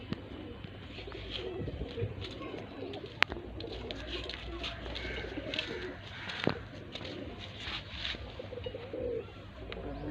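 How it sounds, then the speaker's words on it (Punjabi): Pigeons coo in soft, repeated murmurs, with a busy background of faint voices and scattered noises around them. "ਲਓ ਜੀ ਆ ਕਬੂਤਰ ਹੈਗਾ ਜੀ"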